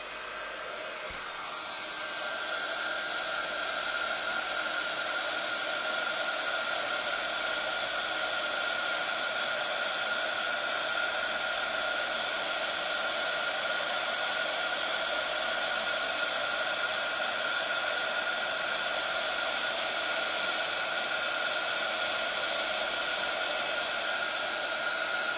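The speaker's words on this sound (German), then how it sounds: "So, und auch wieder so lange in Föhn draufhalten." Heat gun blowing on embossing powder to melt it, a steady loud whooshing roar with a constant whine that starts within the first seconds and holds unbroken to the end.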